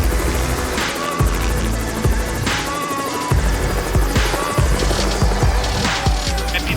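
A tourist helicopter in flight over the Bazaruto Archipelago in Mozambique drones loudly and steadily, its rotor chop beating in a fast, even throb from close inside the cabin.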